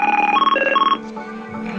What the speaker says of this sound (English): it's ringing on the other phone